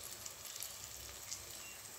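Slices of spiny gourd (kakrol) fry in a pan with a steady, soft hiss and faint crackles, heard up close with no talking.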